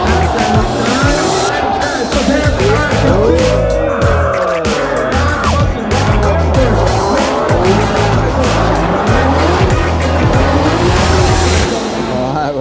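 Formula Drift cars, a Toyota Supra and a Mustang, drift side by side at a Long Beach street circuit, engines roaring loudly with continuous tire squeal and skidding, steady and close throughout with crowd noise beneath.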